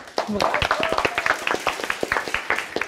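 An audience claps in applause for Ruben Chiche at a panel discussion on cultural and creative industries, a brief burst of moderately close hand claps.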